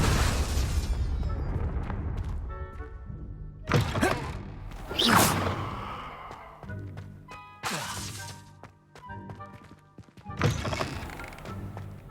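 Spell blasts from Bombarda and Confringo in Hogwarts Legacy: a series of heavy thumping explosions with crashing debris, arriving in irregular bursts about every two seconds, with game tones ringing between impacts.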